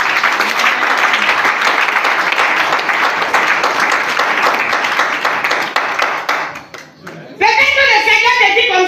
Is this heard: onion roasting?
no